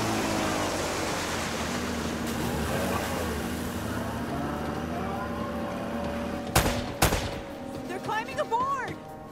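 Gunfire echoes through an ambush in the action video game Uncharted: Drake's Fortune, with a rumbling battle backdrop, two sharp loud shots near the end, and game characters talking over the ambience.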